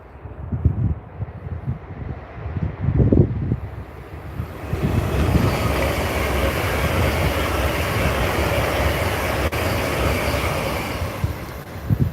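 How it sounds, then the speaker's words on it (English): An LNER passenger train passes Peterborough station, heading for London King's Cross, building from distant rumble to a loud, steady rush of wheels and wind noise. "So that was an LNER service heading down to London King's Cross."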